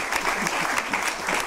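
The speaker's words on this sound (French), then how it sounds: "donc applaudissez-la encore" An audience at a seniors' show in a Moissac care home applauds steadily, a dense burst of clapping that lasts the whole moment.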